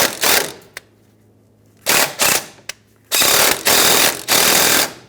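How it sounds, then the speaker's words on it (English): A 3/8 impact gun hammering at a rusty brake hose bolt on a 2014-2018 Subaru Forester, firing in loud close bursts of rapid rattling, stopping and starting back and forth with short clicks between. "a 3/8 impact gun. I'm going to go back and forth with it because it's so rusty"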